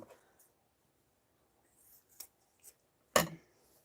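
Fabric being cut with scissors for a slow-stitch project, heard as a few faint snips and one sharp, close crunch of the blades near the end, with quiet gaps between the cuts.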